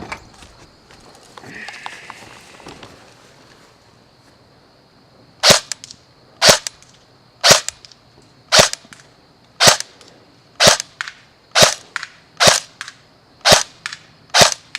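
Lancer Tactical LT-02 airsoft M4 fired on semi-automatic at roughly 24 yards: after a few quiet seconds, about a dozen sharp, snappy cracks ring out one by one at a steady, slightly uneven pace, loud and close.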